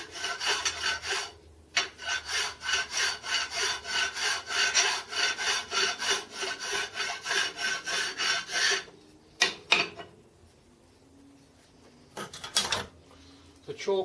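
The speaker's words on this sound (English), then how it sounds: "to file those pads down, or more to the point, so I don't file it down too far" Hand file rasping down the pads on a homemade Gingery milling machine spindle head, a steady run of rhythmic back-and-forth strokes for about nine seconds, then a pause and a few scattered scrapes near the end.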